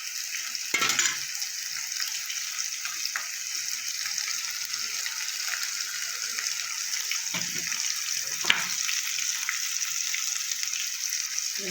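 Spice paste frying in a pan for chicken curry with potatoes, a steady moderate sizzle with a few scraping stirs, no voices.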